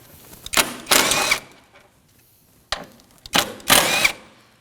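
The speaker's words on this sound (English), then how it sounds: "We're going to remove these two 10mm bolts using a 10mm socket." Socket wrench on 10mm bolts holding the intake tube of a 2011-2016 Kia Optima 2.4L, with two pairs of short, sharp ratcheting bursts close by, separated by near silence.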